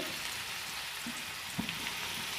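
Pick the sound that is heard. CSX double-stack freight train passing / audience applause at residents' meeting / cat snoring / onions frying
onions frying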